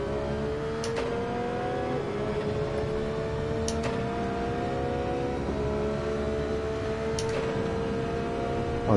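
A Subaru BRZ race car engine in Gran Turismo 7 drones in a sustained high-revving tone with brief shift blips, held steady and close throughout.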